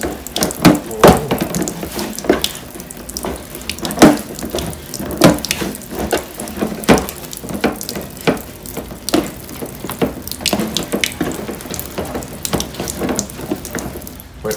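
Water splashes steadily from a kitchen tap as hands are wetted while cooking Jamaican-style corn pork with dumplings, with irregular louder gushes and splatters over a continuous close stream and no talk.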